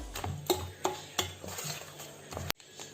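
Jaggery is stirred into payasam in a pot, a spoon scraping and knocking against the metal in four or five distinct strokes about a third of a second apart, close and moderately loud, with a final sharp clack.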